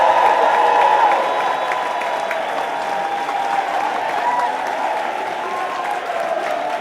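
A Brooklyn audience at The Moth StorySLAM breaks into sustained applause for a storyteller, dense clapping with crowd noise that is loudest at the start and then holds steady, with a voice faintly audible over it.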